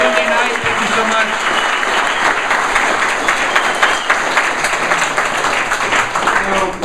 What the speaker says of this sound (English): let's give a long round of applause for our judges